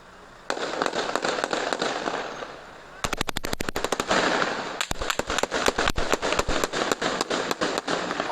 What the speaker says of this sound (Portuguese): Tiro de metralhadora.